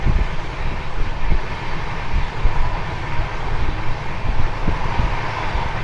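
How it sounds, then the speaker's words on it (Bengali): Inside the moving 13125 Kolkata–Sairang Express passenger train, a steady low rumble with rhythmic clatter and thumps from the wheels and carriage, continuous and fairly loud, with no talk. "উঠে গেছি 13-125 কলকাতা সাইরাং এক্সপ্রেসে।"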